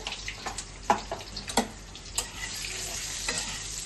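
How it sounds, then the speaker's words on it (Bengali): Potatoes coloured with turmeric fry for chicken kosha, a close steady sizzle broken by several scraping stirs of a spoon against the pan. "আলুটা আমি একটু লাল লাল করে ভেজে নেবো।"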